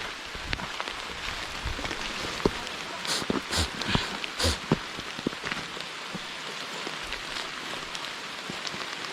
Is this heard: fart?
no